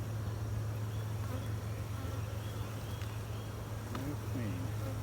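Honey bees buzzing around an opened hive during an inspection: a low, steady drone close by, continuous and fairly faint, with no talk.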